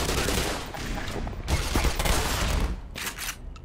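Shotgun blasts from the game Black Mesa boom in quick succession, loud and close, forming a continuous barrage of heavy shots with brief gaps between bursts.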